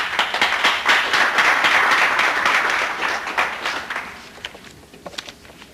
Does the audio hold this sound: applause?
yes